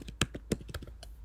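Brief, quiet burst of keystrokes on a computer keyboard, about a half dozen irregular taps over roughly a second, with nobody talking.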